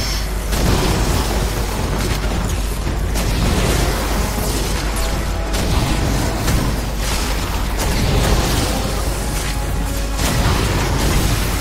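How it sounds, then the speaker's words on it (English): Fireworks burst in the video game Fortnite, a dense, continuous barrage of booms and pops that keeps up loudly without a pause from start to finish. "Fireworks."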